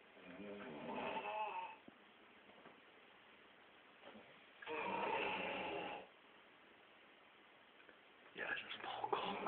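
A man snores in three long, rasping bursts, each about a second or more, separated by quiet pauses, heard close and fairly faint.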